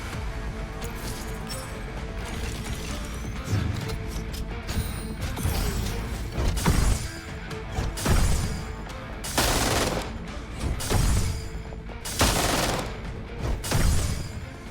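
Gunfire and explosive blasts from a video game battle as a giant robot is destroyed, rapid bursts of shots with several loud broadband booms and crashes spaced a few seconds apart over a dense, continuous combat din.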